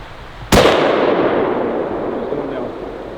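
A single sharp rifle shot fired outdoors at a moose near a campfire, a loud close crack followed by a long rolling echo that fades slowly, with a brief voice afterwards.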